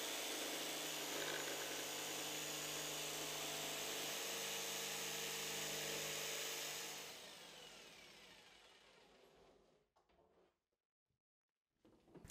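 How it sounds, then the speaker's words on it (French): A jigsaw cuts the lid off a barrel with a loud, continuous buzzing rasp that holds steady for about seven seconds, then tapers away into near silence with a few faint knocks. "Le plus facile consiste à utiliser la scie sauteuse."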